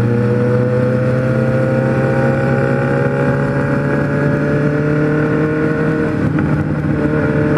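A Kawasaki Z1000 four-cylinder motorcycle engine drones loudly and steadily, its pitch creeping up slightly as it revs, close and continuous with no talking.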